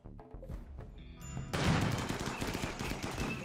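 Rapid gunfire from defensive turrets in the colony-building game RimWorld, a dense burst of repeated shots that builds into a loud, sustained volley after a quieter start of scattered impacts.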